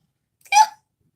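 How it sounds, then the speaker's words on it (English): A single sharp hiccup, close and loud, one brief vocal catch standing alone in silence. "Oh god, why the hiccups?"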